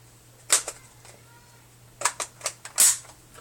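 A few sharp metallic clicks as a rifle magazine seats into the receiver, one near the start and a quick cluster later, with a louder final snap, close and otherwise quiet.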